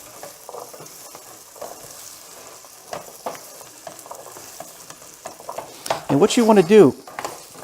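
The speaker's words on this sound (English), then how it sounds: "So in that same skillet, with the oil and the heat still over medium, we can go ahead and add the potatoes in." Potatoes hitting hot oil in a skillet over medium heat for a chorizo breakfast hash, starting as quiet stirring and then swelling into a loud sizzle near the end, with a brief stretch of talk early on.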